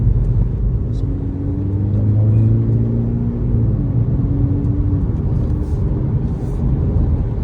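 A small yellow Mini car engine hums steadily while driving, a low continuous rumble with faint tonal whine, heard from inside the cabin with no talk.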